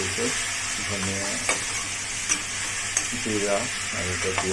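Onion mixed with coriander and cumin fries in a pan, a constant close sizzle broken by repeated stirring scrapes and light clinks of the spoon against the metal.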